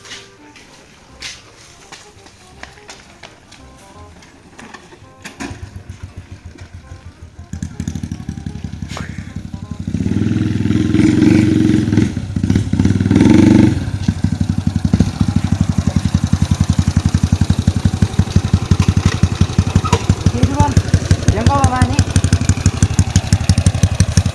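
A 110cc motorcycle fitted with a Honda PCX exhaust is kick-started, then idles and revs with a loud, close, steady chugging putter, the engine note thickening and holding after the first few seconds.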